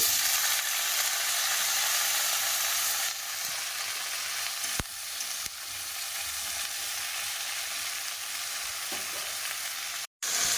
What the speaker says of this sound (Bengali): তেলের ওপরে ফোড়ন দিয়ে দিয়েছি